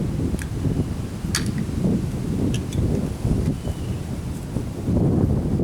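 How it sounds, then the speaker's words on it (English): Steady wind buffets the microphone outdoors on a chilly May day in Louisiana, a continuous low rumbling roar with gusty swells and a few faint high ticks, no talking. "It's so windy out here, and it's chilly."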